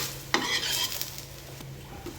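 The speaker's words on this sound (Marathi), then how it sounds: "आता 2 मिनिटं हे सर्व भाजून घेऊया" Whole spices with garlic and ginger for a Satari chicken curry are dry-roasted in a pan, with soft scraping stirs, a faint sizzle and a couple of light clinks of the spoon against the metal.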